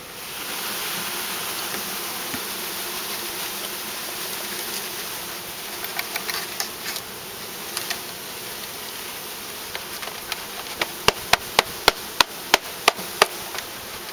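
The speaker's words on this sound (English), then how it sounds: "and now we're going to pour them in." Honeybees buzz in a constant swarming drone while being poured from a package into a hive, as sharp knocks and taps ring out, growing into a rapid series of loud raps near the end.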